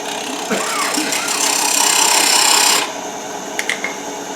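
A wood lathe spins with a steady whirring hum while a tool scrapes and shaves a wooden shot glass for a few seconds, then the cutting stops and the motor idles.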